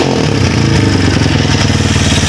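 A Rusi Classic 250 motorcycle with a smoky exhaust revs loudly and close by, its engine note rising and holding in a steady, throbbing drone with mechanical clatter underneath.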